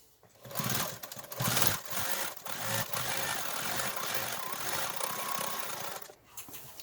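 Sewing machine stitching straight down the middle of heavy denim from old jeans, a loud close motor whir in several surges with brief pauses between runs.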